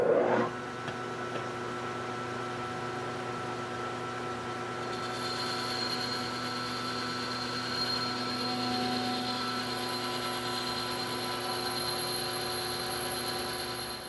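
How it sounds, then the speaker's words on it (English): Metal lathe boring out roller stock for a 6x48 belt sander, taking light 25-thousandths passes; a steady machine hum with bright whining tones holds throughout, rising slightly as the cut engages, with no talk. "we're going to bore in 3/4 of an inch, and we're going to do 25 thousandths passes"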